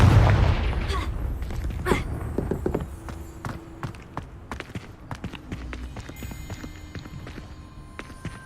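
The Confringo fire spell in Hogwarts Legacy sets off a loud booming blast at the start, then a rapid scatter of crackling, clicking impacts fades out behind it.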